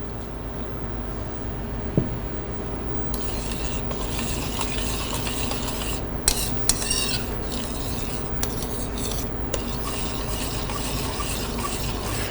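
A pot of sauce with black pepper, sugar, cider vinegar and apple cider simmers on the stove, with a soft steady bubbling bed, scattered metallic clinks and scraping as it is stirred, and no talking.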